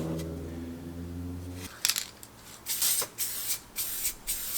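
Paint is sprayed onto a 100-year-old restored bicycle frame in several short, close hissing bursts with brief pauses between them. A steady hum plays alone before the bursts.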